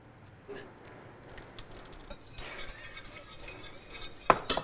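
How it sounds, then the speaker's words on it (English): A whisk clinks and scrapes against a pot off the heat while honey and gelatin are beaten into a Greek yogurt mixture for panna cotta; quiet, irregular metallic taps and swishes build slightly, with a sharper clink near the end. "And we want to whisk that together."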